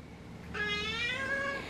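A cat meows once in a long, drawn-out, rising and falling call, close and clear with no talking.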